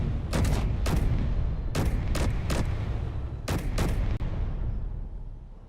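Assault cannon custom turret firing in the video game Space Engineers: a run of heavy, booming cannon shots in irregular pairs and bursts over a loud continuous rumble that fades out at the end, with no talking.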